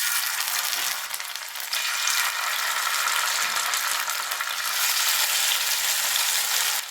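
Pieces of vanjaram fish shallow fry in hot oil over a medium flame, giving a continuous bright crackling sizzle close by with no talking.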